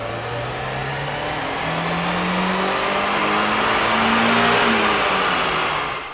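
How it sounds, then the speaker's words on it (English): A Mazda MX-5 runs on a Dyno Dynamics rolling road, its engine pulling steadily up through the revs with a rising, droning tone that holds loud and continuous before easing off at the end. "we're going to do a baseline run on our Dyno Dynamics rolling road here to see what power we're starting from"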